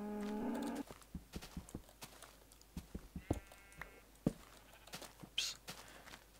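Sheep in a farming video game, a short bleat at the start followed by scattered soft clicks and taps, with a second brief bleat later, faint and sparse.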